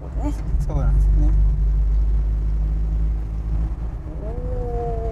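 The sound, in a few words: Isuzu Bellett 1600GT engine accelerating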